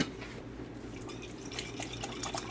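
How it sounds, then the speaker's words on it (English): Water is poured into a nearly empty tomato jar to rinse it, a soft continuous trickle with light splashes and drips, close by and fairly quiet. "I'm going to empty some water in here to clean out the jar so I'm not wasting any of my tomato."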